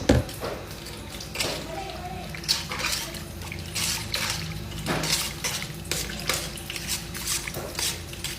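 Chicken intestines are washed under running water, with splashing and dripping that come in irregular bursts and soft sloshes over a faint background, close by and fairly quiet.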